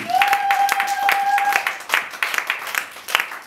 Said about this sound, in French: On acclame encore très fort pour Jésus.